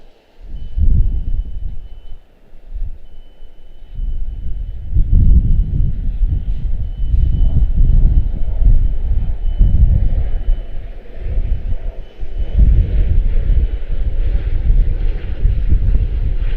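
An airliner on approach to land at Washington Dulles airport, a steady loud rumbling engine roar with low gusting wind noise that swells and holds throughout without voices.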